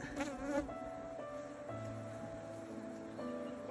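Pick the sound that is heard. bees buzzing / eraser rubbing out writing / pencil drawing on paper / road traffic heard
bees buzzing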